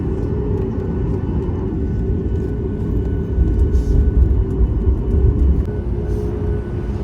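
Inside a passenger airplane cabin at night after landing at Bengaluru, a loud, steady low engine rumble and whir fills the space, swelling briefly midway, with no voices standing out.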